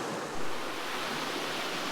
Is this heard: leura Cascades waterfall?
yes